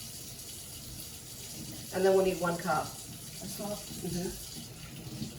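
Kitchen tap water runs steadily in the background while someone waits for it to warm for pizza dough, a soft continuous hiss under talking voices.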